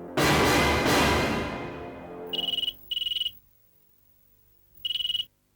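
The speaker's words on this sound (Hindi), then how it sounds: "आप दीवान साहब के घर फोन मिलाइए" A loud sweeping dramatic swell dies away, then a telephone rings in three short electronic bursts with pauses between them, clear and close in a TV drama scene.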